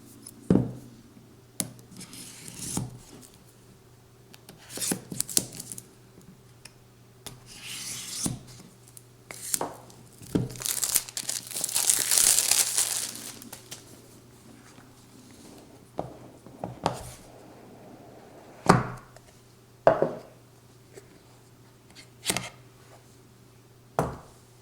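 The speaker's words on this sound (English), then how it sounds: "Let's take it out of the box." An Apple iPhone SE is slid out of its box, with close, quiet rubbing and scraping of cardboard, short sharp rustles and taps, and a brief louder stretch of friction in the middle against a low steady hum.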